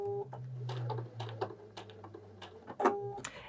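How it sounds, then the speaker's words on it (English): A Bernette B79 sewing machine runs a lock stitch, with a steady low motor hum and quick mechanical clicks and taps of the needle, close and fairly quiet. "I can sew a lock stitch."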